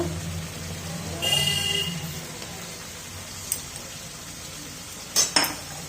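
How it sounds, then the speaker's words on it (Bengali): A spatula scrapes and clinks against a pan as a potato, cauliflower and egg curry is stir-fried, with a low sizzle underneath, a longer scrape early on and a couple of sharp metallic knocks near the end. "এবার এটাকে ভালো করে একটু কষিয়ে নেবো"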